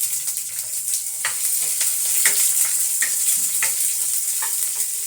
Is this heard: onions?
yes